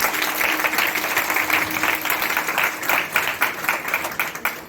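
A church congregation applauds during a Palm Sunday sermon, a loud, sustained wash of many hands clapping with an uneven pulse across the hall.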